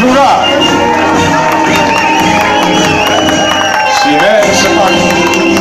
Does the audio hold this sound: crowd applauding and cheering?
yes